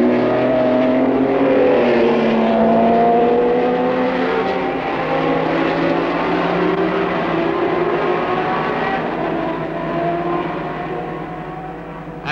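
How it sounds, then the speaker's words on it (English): A field of 1967 Formula 1 race cars roaring away at the Nürburgring, several high-revving engines blending into a loud, sustained wail that slowly recedes into the distance. "the field roars away along the back straight to the north curve and out into the country"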